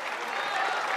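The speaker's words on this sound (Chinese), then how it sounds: "他们都给我鼓掌，我的天哪！" An audience at a crosstalk comedy performance at a Tianjin Spring Festival gala claps in steady, dense applause that holds and swells slightly over a short moment.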